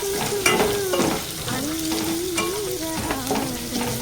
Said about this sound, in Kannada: ಬೆಳ್ಳುಳ್ಳಿ ಹಾಕಿ. ಇಲ್ಲಿ ಬೆಳ್ಳುಳ್ಳಿ ಸ್ವಲ್ಪ ಕೆಂಪಾಗಬೇಕಾ ಅಷ್ಟು ತನಕ ಕೈ ಹಾಕಿ